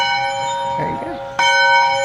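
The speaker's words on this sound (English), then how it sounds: "Then seeing a school where we go ring the bell." A bell at an old schoolhouse in a restored 1880s town rings twice, each stroke bright and sustained, the second louder, with people talking softly between the strikes.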